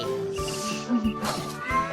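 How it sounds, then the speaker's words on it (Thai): Minecraft cats meow in short, close bursts, several quick mewing calls over a steady background of game music, with a voice faintly present. "อะไรเจ้าแมว ร้องอะไรกันนะ"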